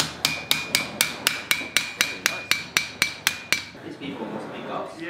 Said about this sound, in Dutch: nu mag ik met de grote hamer